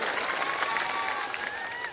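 Audience at a political rally breaks into dense, steady applause, a continuous wash of many hands clapping that stays loud throughout, with faint crowd noise underneath.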